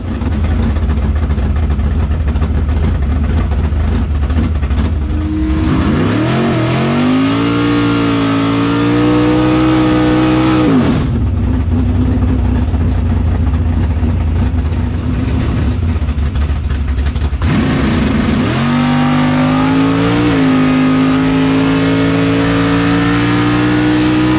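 A bracket drag racing car roars loudly at close range, revving hard and repeatedly climbing in pitch through launches and gear changes on a crisp day.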